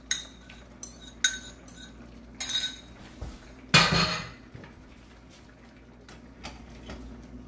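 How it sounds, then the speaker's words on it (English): Shrimp being added to a simmering pot of steamed shrimp with okra: sharp metallic clinks and scrapes of a utensil against the pot, a few irregular close taps and one brief louder rattle, then quiet. "we're just gonna add the shrimp now to this"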